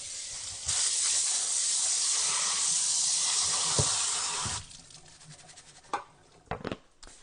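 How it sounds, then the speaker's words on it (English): Rice rinsed under a running kitchen tap: a steady, loud rush of water for about four seconds, then the flow stops and a few clinks and splashes follow. "just give your rice a quick rinse"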